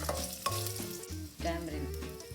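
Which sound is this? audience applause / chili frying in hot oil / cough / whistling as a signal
chili frying in hot oil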